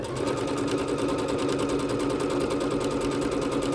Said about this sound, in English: let's bring our needle in and stitch